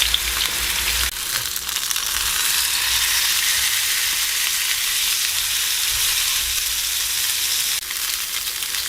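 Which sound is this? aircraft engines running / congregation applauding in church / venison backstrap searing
venison backstrap searing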